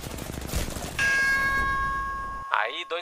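Gunfire in the Apex Legends battle royale game from two players shooting: a short noisy burst, then a sustained ringing tone and a sharp, brief crack near the end, with voices nearby.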